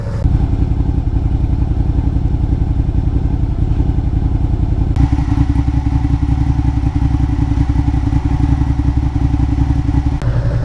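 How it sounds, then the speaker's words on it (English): A 2009-2015 Suzuki SFV650 Gladius motorcycle engine idles steadily while warming up, with a rapid, even chugging pulse that shifts slightly in tone partway through, close and loud. "we're going to want to start warm up the engine so that the fluid is more viscous"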